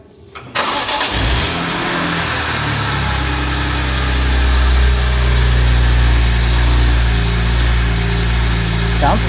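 A BMW E46 M3 wagon's S54 engine fitted with a Euro header fires up for the first time, then settles into a loud, deep, steady idle with a slight swell in the rumble, close by in a workshop.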